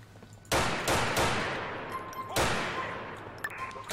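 Gunshots in the police mod LCPDFR ring out as a few loud, sharp cracks with reverberant tails, three close together and then another after a pause.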